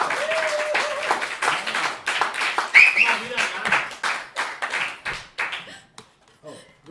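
A live audience at an event claps steadily in a dense, close patter that gradually thins out and fades toward the end, with talk and a short whistle over it.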